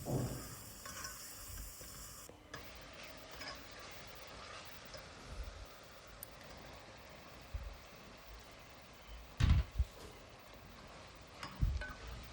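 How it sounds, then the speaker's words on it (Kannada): Sliced mushrooms frying in a pan for a restaurant-style mushroom biryani, a soft steady sizzle with occasional louder clatters of stirring near the end, no talk. "1 ಪ್ಯಾಕೆಟ್ ಮಶ್ರೂಮ್ನ ತೊಳೆದು ಕಟ್ ಮಾಡಿ ಈ ಮಿಶ್ರಣಕ್ಕೆ ಹಾಕ್ಕೊಳ್ಳೋಣ ಮತ್ತು ಅದನ್ನು ಫ್ರೈ ಮಾಡ್ಕೊಳ್ಳೋಣ"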